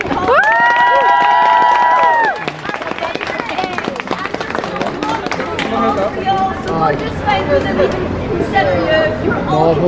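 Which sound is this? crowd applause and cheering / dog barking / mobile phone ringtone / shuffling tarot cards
crowd applause and cheering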